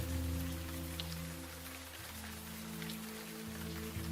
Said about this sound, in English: Let's find some shelter from the rain.